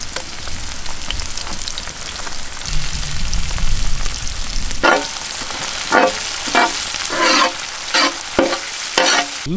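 Onion and tomato fry in butter for a spicy lobster gravy, sizzling steadily while a utensil scrapes and stirs the pan in loud, repeated strokes.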